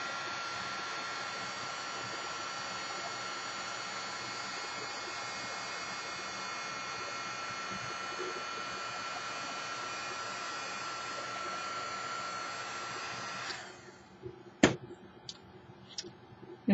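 A heat tool melts shimmer embossing powder on craft paper with a loud, steady blowing whoosh like a hair dryer that runs for about thirteen seconds, then cuts off, leaving a few faint taps and clicks.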